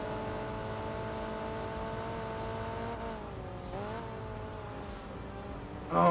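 Engine of a race car in the driving game Enthusia Professional Racing, a steady mid-pitched drone that dips and rises as the car brakes and corners, with a brief harsher burst at the end.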